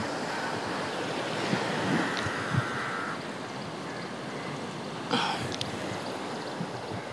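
Sea waves wash steadily around a wooden fishing boat being rowed out by oars, with no engine, from Mirya Bandar in Ratnagiri; the surf is a constant broad wash with wind over the mic and a couple of brief splashes.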